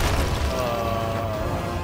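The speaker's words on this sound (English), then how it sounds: "Super blight cannon." Cannon fire in the pirate video game Sea of Thieves, heard as continuous, dense booming blasts with a tonal whine laid over them, loud and unbroken, with no talking.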